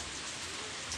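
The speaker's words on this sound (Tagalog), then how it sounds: "Mumuhos na naman ang ulan." Heavy rain pouring down, a dense steady hiss of drops on surfaces, constant and enveloping throughout the short stretch.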